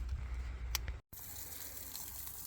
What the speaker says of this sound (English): So I'm watering them again, but just water, no fertilizer.